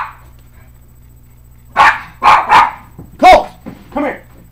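A dog barks in a loud close burst of about five sharp barks, with a low steady hum underneath and a quiet stretch before the barking begins.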